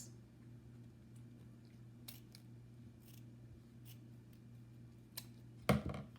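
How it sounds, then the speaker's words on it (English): Scissors cut a single 24-inch craft strip for a farmhouse Christmas lantern, giving a brief, crisp snip near the end after quiet room tone with faint occasional ticks. "I'm going to just go ahead and cut this."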